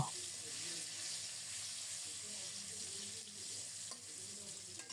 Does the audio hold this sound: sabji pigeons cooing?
no